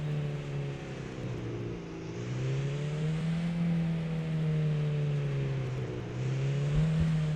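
A car engine in the Beware video game, a steady droning hum that rises and falls in pitch as the throttle changes, continuous and moderately loud, with no talk.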